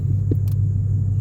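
A car with a freshly cleaned MAF sensor and a 93-octane tune hums steadily from inside the cabin while driving. Its deep, even low rumble carries a faint high whine.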